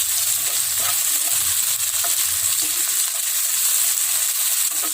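Crushed chilies and sliced large red chilies sizzle steadily in a hot pan, with scattered scraping stirs over the continuous close, fairly loud frying hiss.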